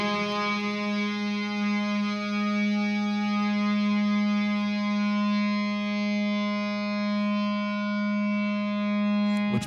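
A lead electric guitar patch, set to a cavernous solo tone with heavy reverb, holds one long sustained distorted note with a rich harmonic stack, loud and steady alone for nearly ten seconds.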